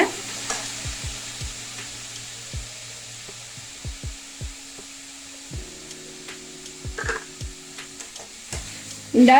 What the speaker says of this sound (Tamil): அதை இப்போ போட்டுடலாம். போட்டுட்டு நல்லா ஃப்ரை பண்ணலாங்க ஒரு 2 மினிட்ஸு.